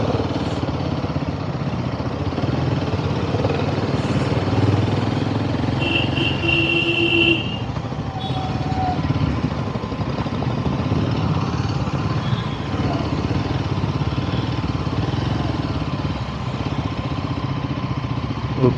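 Motorcycle engine droning continuously and loud as it climbs a steep winding hill road in fog, the motor steady under wind rush with a few faint passing tones.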